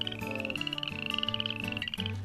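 Frogs on a free-range farm: a rapid, pulsing high trill runs nearly the whole time over steady lower droning tones, a dense and continuous chorus with no voices.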